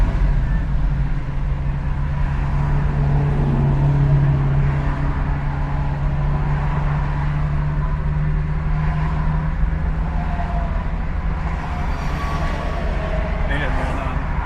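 A 1973 Chevrolet Camaro four-speed engine idles a little high, a steady loud low rumble running throughout with some ambient noise over it.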